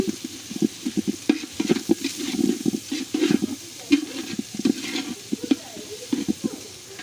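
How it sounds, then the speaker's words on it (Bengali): Vegetables frying in a pan on a clay village stove for a carrot-free Chinese-style dish, with repeated scraping stir strokes over a steady low sizzle, close and moderately loud throughout. "সবজিগুলো ভালো মতো ভেজে নিচ্ছি"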